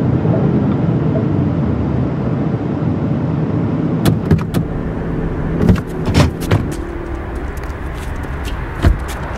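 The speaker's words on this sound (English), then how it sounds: "I gotta pull up in this gas station right quick." A car rolling into a gas station, with a steady low engine and road rumble that continues throughout, then several sharp knocks and clicks from the car in the second half.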